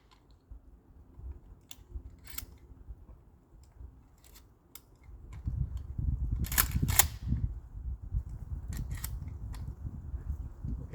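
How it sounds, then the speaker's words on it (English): Target round shells go into a shotgun outdoors as a run of sharp, close metallic clicks and snaps, spaced out over several seconds, with rustling and handling noise beneath them. "We're gonna load target round shells on this one"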